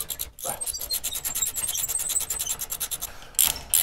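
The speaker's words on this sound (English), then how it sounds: "So I got a socket here and I gotta get a 3/4 inch wrench for over here." A socket wrench ratchets rapid rhythmic clicks while tightening 3/4 inch bolts on a trailer tongue hinge, steady close strokes with brief pauses and a louder burst near the end.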